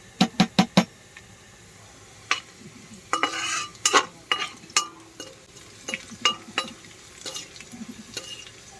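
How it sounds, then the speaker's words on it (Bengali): Rice mixed with turmeric frying alongside carrots in a pan, opening with four quick sharp knocks, then repeated scraping stirs over a light sizzle. "চালটাকে একটু ভেজে নিচ্ছি"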